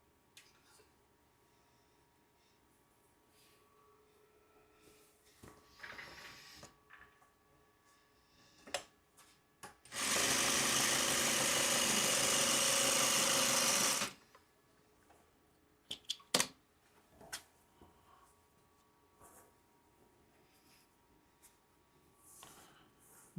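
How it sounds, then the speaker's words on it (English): A sewing machine stitches two quilt pieces together for a Farmer's Wife quilt top, running in one steady, loud burst of about four seconds amid quiet fabric handling and small clicks. "I can sew these two together"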